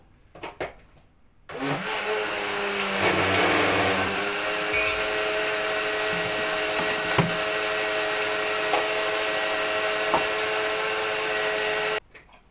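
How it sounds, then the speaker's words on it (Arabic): An electric mixer beating cake batter whirs steadily for about ten seconds, starting abruptly and stopping suddenly, with a bit of rattling at the start. "وهنضرب في الخلاط"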